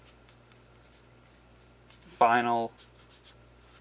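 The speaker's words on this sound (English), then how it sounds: "write a message on it." A pen scratches a message onto a business card in soft, intermittent strokes, faint and close, while a person speaks a single word partway through.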